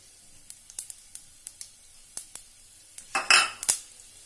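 A tempering of bay leaf, dried chili and five-spice being stirred in a pan, a series of light metallic scrapes and clicks of a spatula, ending in a brief louder burst of sizzle and scraping.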